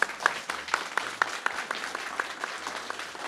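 Applause from an audience at an esports racing cup awards moment, honoring the winning Subaru team; steady, moderately distant clapping throughout, no talk over it.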